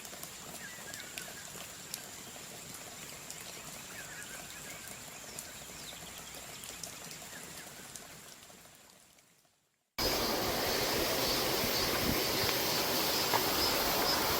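A mountain valley stream in Yangpyeong, a steady rushing water wash that fades out near the ten-second mark and then returns louder and closer, continuous with no talking.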